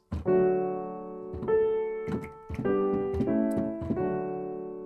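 Four sustained piano chords in a I-IV-V-I progression played one after another, the third (V) struck quickly before the last chord rings out and fades.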